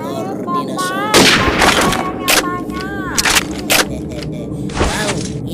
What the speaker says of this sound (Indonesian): Ayo kita terbang, kita tembak.